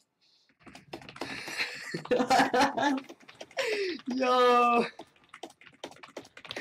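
Keyboard keys clatter in quick bursts amid loud gamer chatter and laughter during an intense Dragon Ball Z Final Stand tournament, the typing partly buried under the voices.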